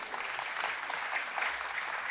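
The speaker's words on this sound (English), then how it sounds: "So give yourselves a round of applause for that." Audience at a food co-op's annual owner meeting applauds grant work, a steady, dense patter of many hands that stays fairly soft and somewhat distant throughout.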